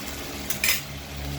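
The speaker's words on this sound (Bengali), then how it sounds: "দিয়ে একটু নাড়াচাড়া দিয়ে ঢেকে দেবো মাংসটা।" Meat being stirred in a pot with a metal utensil before the lid goes on: a couple of brief clinks and scrapes against the pot over a low steady kitchen hum.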